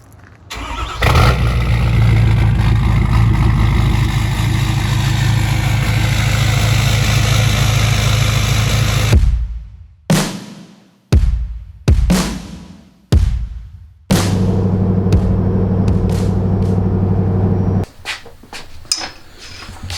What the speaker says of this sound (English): this is another wonderful cold start